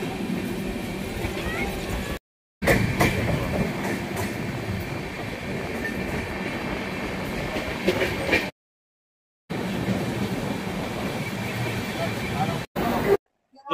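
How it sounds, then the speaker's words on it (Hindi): Doon Express passenger train standing at Durgapur railway station gives a steady rumble with clanks and bustling station crowd noise, close and loud, broken by brief silent gaps. "दोस्तों अपनी ट्रेन खड़ी है दुर्गापुर रेलवे स्टेशन पे"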